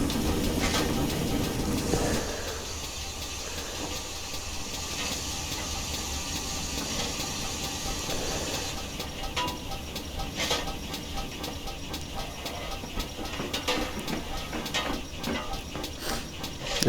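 A GWR Small Prairie 2-6-2T tank engine runs in Train Simulator Classic with upgraded steam sounds, giving a steady mechanical hiss and rumble with faint rhythmic clanks and chuffs throughout.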